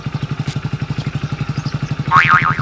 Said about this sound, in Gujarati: ચાલુ કરો બાઈક